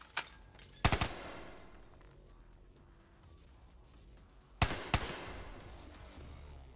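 Video game gunfire in a two-versus-two match: a single sharp shot near the start, a tight cluster of loud shots a little later, then another burst toward the end, with quiet game ambience in between.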